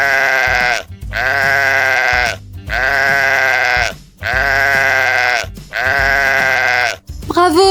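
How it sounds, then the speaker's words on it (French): A sheep bleats loudly and close in five long, wavering calls with brief gaps between them, each cry strong and sustained. "il s'agit du mouton"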